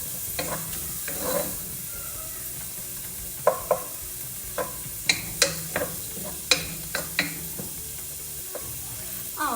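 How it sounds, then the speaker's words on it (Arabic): Meat with spices is stirred in a pot: a soft background sizzle punctuated by a dozen sharp spoon clacks and scrapes against the metal at an uneven pace, no voices. "هلا بدنا نبلش نضيف البهارات ونحركهم مع البهارات"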